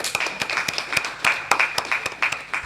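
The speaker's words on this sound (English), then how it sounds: "let's conclude with applause to everybody attending this panel." Scattered clapping from a small group at the close of a conference panel session, uneven bursts of hand claps close by, with no voices over it.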